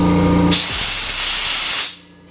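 Eastwood scroll air compressor running up close, a steady loud broadband hiss of rushing air that cuts off abruptly near the end, leaving a quiet low hum; no talking.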